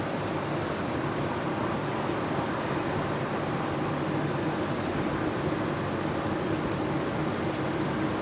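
A Qantas A330 airliner passes over Brisbane Airport at night, its jet engines producing a broad, steady roar that holds loud and constant throughout.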